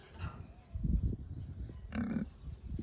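Pigs on an outback station grunt low and close, a couple of short rough bursts spaced about a second apart over a soft outdoor background.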